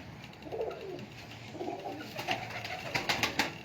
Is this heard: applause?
no